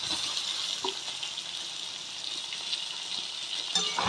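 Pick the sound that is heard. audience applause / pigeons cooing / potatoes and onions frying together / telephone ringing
potatoes and onions frying together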